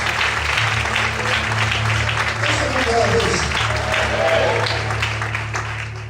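A church congregation applauds during an evening Portuguese-language service, a steady wash of clapping with voices mixed in and a low electrical hum underneath, moderately loud and sustained.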